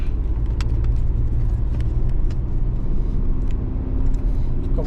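Competition drift car with a stock, unbuilt Toyota 1JZ non-VVT engine, heard as a loud, continuous low rumble from inside the cabin while driving, steady throughout with light rattles and knocks over it.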